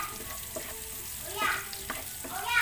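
Green chili sizzling in a frying pan while fish biryani is being cooked, a steady hiss of frying with occasional stirring scrapes, fairly close and moderately loud, with no talking.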